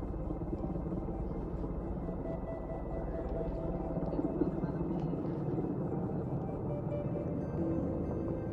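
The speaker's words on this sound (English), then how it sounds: "So right now, we just heard helicopters." Helicopters over a wildfire zone: a steady, low, distant rotor rumble that drones on without a break, with faint outdoor background.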